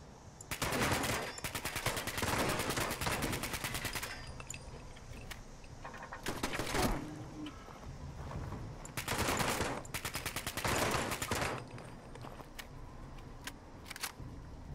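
Turret gunfire in the Fallout 76 wasteland comes as loud bursts of rapid automatic shots separated by brief lulls, with sharp single cracks scattered through and no voices.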